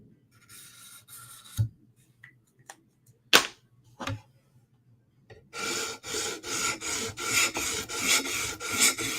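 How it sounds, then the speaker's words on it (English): Rhythmic rasping strokes of a Spyderco knife edge drawn across a sharpening stone to lift the burr, a few sparse scrapes and taps first, then a steady run of close, evenly spaced strokes. "You can hear the burr getting swooped up."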